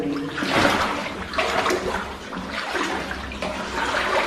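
Water sloshes and splashes steadily as someone wades through deep water over an unstable, muddy floor in a mine adit at Ludwikowice Kłodzkie, with rhythmic surges of the churning stride and no talking.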